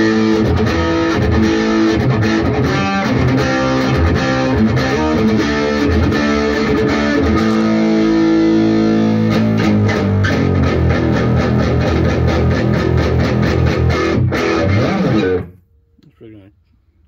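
Electric guitar runs through a Boss ST-2 Power Stack and OD-3 Overdrive with everything cranked, a loud thick distorted chord riff sustained for about fifteen seconds before cutting off abruptly.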